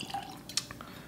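Wild Turkey 101 whiskey poured into a metal glass, a short splash and trickle with a brief bright drip near the middle, close and fairly quiet.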